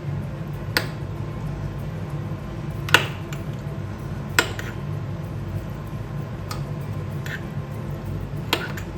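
Yogurt is stirred with salt in a bowl, a spoon tapping and scraping the sides in sparse, irregular clicks over a low steady background hum, with no talking.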